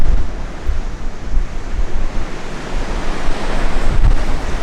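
Strong wind on the South Australian coast, a loud, steady, broadband rush with surf-like texture and gentle swells in intensity, with no voices.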